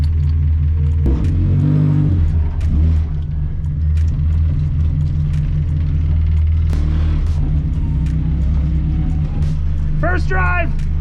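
Engine of a 2.0-litre Honda Civic EG on its first drive rumbles and revs with bursts of acceleration, loud and close, while people talk over it throughout.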